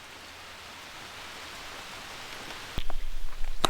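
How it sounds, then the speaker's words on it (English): Steady rain drums on the roof of a trail shelter in a state park, a dense even hiss that swells louder toward the end, with no talking. "it started raining harder and harder"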